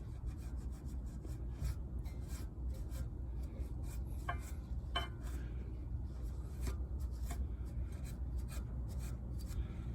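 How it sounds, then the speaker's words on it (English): Old sock and screwdriver scrubbing and scraping grime off the rear brake parts of a 2015 Honda Accord, a continuous close rasping rub with a few sharper scrapes in the middle. "I'm gonna use an old sock and a screwdriver to clean this up a little."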